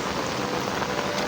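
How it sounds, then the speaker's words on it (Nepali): Light rain falls on a house rooftop terrace, a close, even patter of drops with a soft continuous hiss and no voices. "पानी चाहिँ यसरी परिरहेछ"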